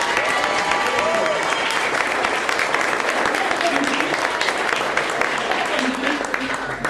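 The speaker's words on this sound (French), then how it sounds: "Je crois qu'on peut applaudir après." Sustained audience applause at a slam poetry competition after the judges' scores are read, a dense, steady wash of many hands clapping at full volume, with some crowd voices mixed in throughout.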